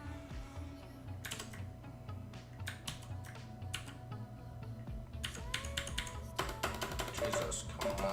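Rapid typing on a compact 60% computer keyboard, with a steady stream of close, crisp key clicks that come in quick bursts and bunch up denser toward the end.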